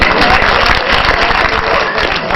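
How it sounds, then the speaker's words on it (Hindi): An audience claps loudly and continuously after a poetry and ghazal recitation, a dense roar of applause that fills the whole stretch with no gaps, with some crowd murmur mixed in. "चलिए एक बार जोरदार तालियां बजा दीजिए"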